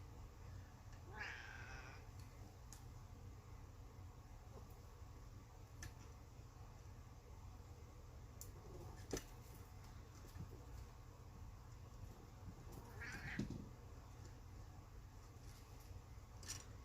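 A cat meows and caterwauls a few times nearby, short wavering cries spread over a steady mechanical hum and ticking, with an electric spinning wheel being set up in a quiet room.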